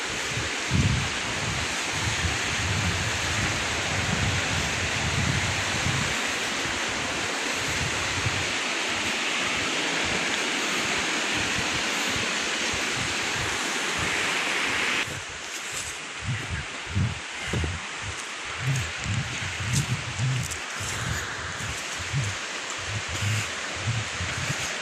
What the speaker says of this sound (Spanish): Ahí va el río.